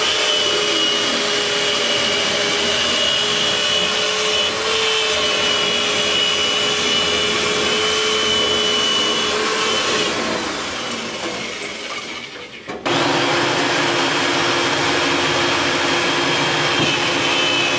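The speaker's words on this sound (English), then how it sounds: "We turn these air ducts into a big vacuum cleaner." A loud duct-cleaning vacuum hooked to home air ducts roars steadily for a long stretch, dips briefly near the end, then surges back to full strength.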